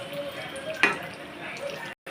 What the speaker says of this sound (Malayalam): വട ഇങ്ങനെ വറുത്ത് ഇരിക്കുന്നു